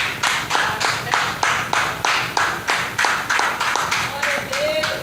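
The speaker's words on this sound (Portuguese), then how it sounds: "Vamos dar uma salva de palmas para o nosso Deus." A church congregation claps in unison to a steady, even beat, about two claps per second, loud and close, with voices underneath.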